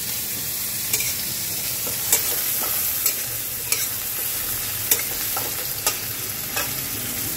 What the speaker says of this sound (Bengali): পেঁয়াজ আর কাঁচা লঙ্কাটা একটু ভেজে নেব।